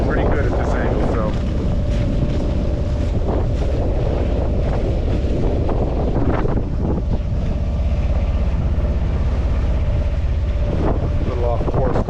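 Wind blowing hard across a sailboat on a solo sail, a loud, constant rushing rumble buffeting the microphone, with a voice heard now and then beneath it.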